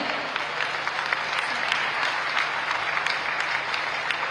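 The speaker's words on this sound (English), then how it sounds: "Can we have a huge round of applause for him?" Steady applause from a large crowd at a festival closing ceremony fills the whole stretch, dense and even without pauses.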